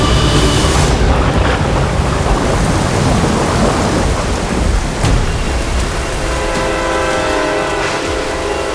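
A heavy thunderstorm pours down, with dense, loud rain hissing continuously and deep thunder rumbling through it, a sharper crack landing around the middle. No one speaks.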